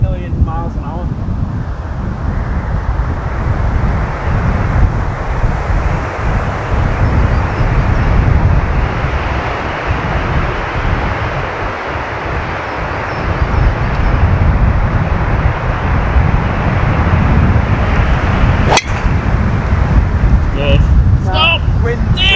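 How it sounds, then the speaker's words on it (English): Strong wind blows across a golf course at Slaley Hall, a loud, continuous roar of gusting wind buffeting the microphone for the whole stretch, with a brief sharp click near the end. "Why's wind just got up about 8 million miles an hour?"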